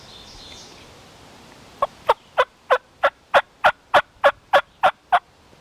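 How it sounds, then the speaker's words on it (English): Wild turkeys gobble in a quick, evenly spaced burst of about a dozen throaty pulses, somewhat distant on a side hill, in a quiet outdoor setting during a spring hunt. "There's the turkeys right there."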